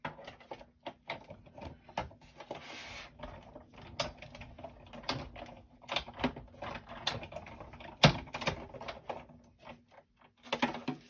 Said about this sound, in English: I'm going to run it through my die cut machine real quick.